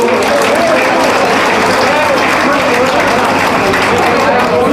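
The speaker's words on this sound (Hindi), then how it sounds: "एक बार ताली तो बजा दो साथियों" An audience applauds at an Indian ceremony honoring elderly war veterans and heroines, with steady, loud, dense clapping throughout that is mixed with crowd noise.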